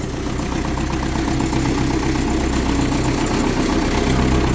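A tractor engine idles nearby with a loud, steady, low chugging rumble and rattling vibration throughout.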